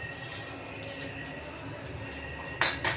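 A lid set onto a frying pan of an egg dish with a couple of sharp metallic clinks near the end, over a steady low kitchen hum and faint background noise.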